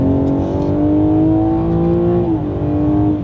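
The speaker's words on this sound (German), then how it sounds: "Aber sobald der Wagen dann am Gas hängt, schiebt das Ding nach vorne." A BMW M3 Competition's engine pulls hard under throttle in road mode, a loud, close, rising growl that briefly dips as if shifting, then climbs again, with no voices.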